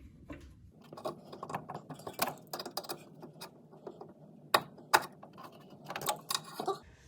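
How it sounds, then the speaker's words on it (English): Crescent wrench tightening Allen bolts on a Suzuki Cappuccino coilover install, giving a run of quick metallic ratcheting clicks and sharp taps in an irregular rhythm, close and fairly loud. "let's see if I can get them just one more good turn with my crescent wrench"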